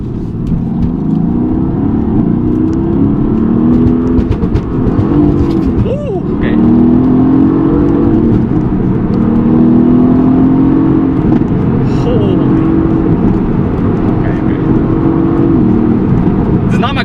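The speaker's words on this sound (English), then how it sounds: "you can hear the pops. Pretty damn sick" A Mercedes-AMG GT C coupe engine drones steadily at close range while driving, with a few sharp exhaust pops breaking through near the middle.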